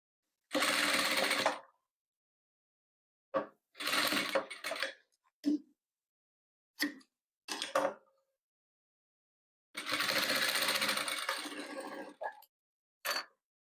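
Sewing machine stitching velvet patchwork in short rattling bursts of one to two seconds separated by silences, with brief clicks and knocks between runs.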